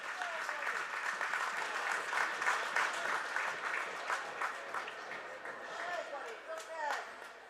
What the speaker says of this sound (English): Nice hand from the crowd here for Jake Myers.